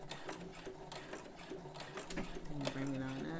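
A Brother CS7000X sewing machine runs in a short whirring burst while back stitching a collar, close and steady, with a person talking over it.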